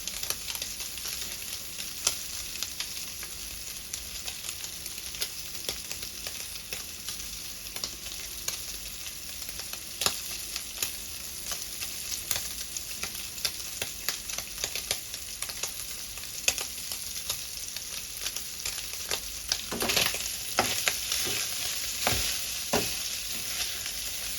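Fermented pork naem being stir-fried in a pan until golden, with a continuous bright sizzle and scattered scraping stir strokes, a spatula clack near the end, close and with no voices.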